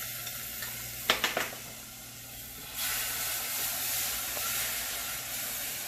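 Tomato sauce mixture for a chana (garbanzo bean) dish sizzles and hisses in a pan, with a few brief stirring knocks early on before the frying noise swells to a steady, bright sizzle.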